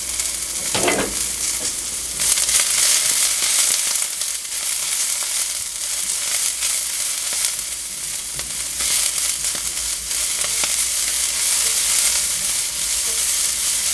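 A gochujang ramen stir-fry cooking in a glass pot gives a loud, steady sizzle for the whole stretch, with occasional stirring scrapes and clacks close by and no voices.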